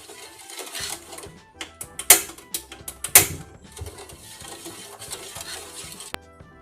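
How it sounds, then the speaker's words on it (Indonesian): A spoon stirs a sugar and milk mixture in a pot for ice pops, giving a series of irregular scraping clinks and taps against the metal, two louder knocks standing out. "Kemudian kita aduk sampai gulanya larut dan tercampur"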